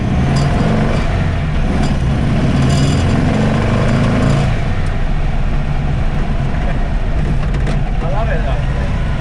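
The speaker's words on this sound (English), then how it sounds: "I love the noise. Straight cut gear." VW Baja Bug with big tyres and straight cut gears driving in fourth gear, a continuous loud engine drone with gear whine and rattling throughout, a voice talking over it.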